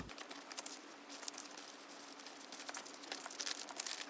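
Plastic sticker packaging being crinkled and sorted by hand, a soft continuous rustle and crackle close by with no voices.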